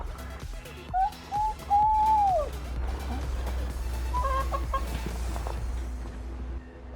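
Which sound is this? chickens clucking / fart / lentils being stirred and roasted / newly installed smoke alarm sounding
chickens clucking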